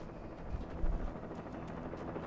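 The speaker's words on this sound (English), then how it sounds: "I got a chopper." Helicopter in the video game Alan Wake Remastered, a low, rumbling rotor drone holding steady for a couple of seconds, fairly close, with a few thuds mixed in.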